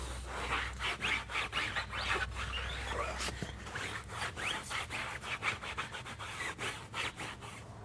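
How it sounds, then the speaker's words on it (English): Steady brisk scrubbing on a car tire being cleaned, a rhythmic back-and-forth brushing with fast even strokes. It is close and continuous throughout, with no talking. "we're going to go ahead and clean the whole tire"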